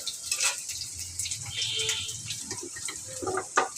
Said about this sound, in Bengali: প্রথমে আলুটাকে ভাজছো, তাই তো?